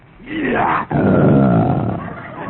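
A single drawn-out, growling roar made by a human voice imitating a big cat, rising then sustained, close and fairly loud.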